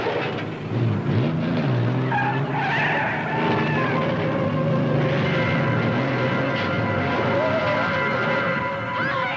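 Racing cars squeal and skid with revving engines through a radio drama scene, a loud continuous stretch of tire screeches and motor roar in a game of $50 cars raced for a $10,000 bet.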